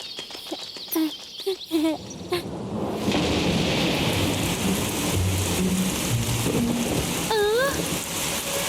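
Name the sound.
rain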